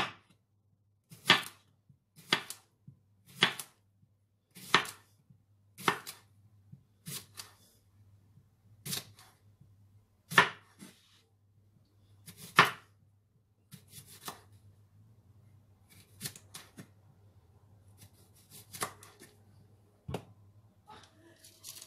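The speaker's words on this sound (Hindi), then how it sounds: "खीरा काटेंगे।" A knife chops cucumber for a salad on a board, sharp distinct knocks in a steady rhythm, loud and close, then slowing into sparser, softer cuts with a quiet hum underneath and no speech.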